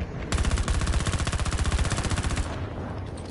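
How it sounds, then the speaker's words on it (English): Rapid 30 mm cannon fire from an aircraft in Battlefield 2042, a loud close burst of evenly spaced heavy shots lasting about two seconds before tailing off into rumble. "30 mil cannons, man, just stop."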